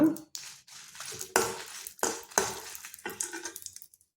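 Spices and dried chillies, including cumin, coriander and fenugreek, roasting in ghee in a pan, heard as a light sizzle broken by several sharp scraping stirs and metal clinks of a spoon against the pan, fairly close.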